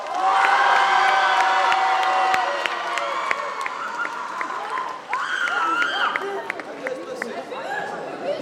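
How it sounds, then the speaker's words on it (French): An audience at a cosplay contest in Lorient bursts into loud applause and cheering, with shouts and whoops over the clapping that gradually thin into scattered claps and crowd chatter, while voices talk near the end. "Est-ce qu'on peut encore l'applaudir s'il vous plaît? Très très très fort!"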